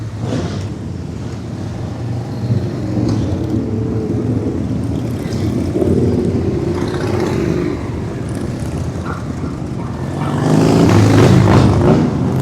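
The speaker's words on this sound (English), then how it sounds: "I'm just listening to the bikes" Harley-Davidson motorcycles rumble and rev at a rally in Baildon, a loud, continuous engine roar that swells and fades as bikes pass and builds to a heavier rev near the end, with no talking.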